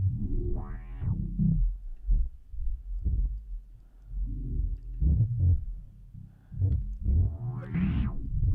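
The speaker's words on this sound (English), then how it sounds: "So we've got some kind of random filtering that we're doing." A low synth tone pulses unevenly, its filter modulated by a random LFO opening and closing it, with occasional bright sweeps rising above the murky bass.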